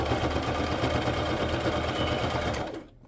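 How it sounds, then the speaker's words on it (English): A Brother LX3817G sewing machine stitches with black thread in a fast, steady mechanical hum and rapid needle clatter, running loud and continuous for about three seconds before stopping abruptly. "I have a Brothers sewing machine. It is LX3817G."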